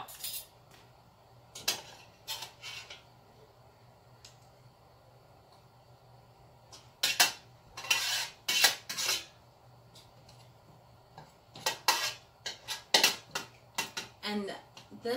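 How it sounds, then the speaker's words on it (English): Leftover peppers are scraped out of a Ball jam and jelly maker pot with a utensil. The scrapes and clinks come in close, intermittent bursts, clustering near the end, between quiet pauses. "I still have some peppers in here that I am going to scrape out"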